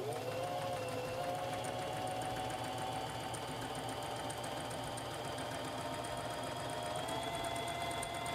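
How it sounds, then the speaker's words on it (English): A sewing machine stitches fabric in a steady, continuous whirring drone with fine rapid needle ticking, close and even throughout, with no speech. "Lower the presser foot and press your foot control to begin sewing."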